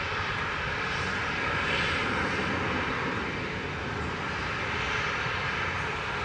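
An Ethiopian Airlines Airbus A350-900 arriving at Manchester Airport from Addis Ababa via Marseille, its engines giving a steady, fairly loud broadband roar that holds evenly throughout with no voices.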